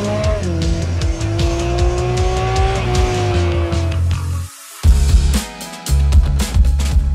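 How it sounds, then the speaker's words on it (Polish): A Porsche 718 Cayman GT4 RS revs loudly and holds high under launch control, then drops briefly before surging through gearshifts with sharp, close, roaring acceleration. "Nie byłoby Porsche bez launch control."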